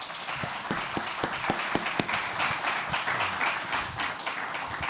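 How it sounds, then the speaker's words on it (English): Moderate applause from an audience at the UChicago Institute of Politics welcoming Marc Short, scattered hand claps building into a fuller, steady round that carries on without speech. "Join me in welcoming Marc Short to UChicago Institute of Politics with a warm round of applause."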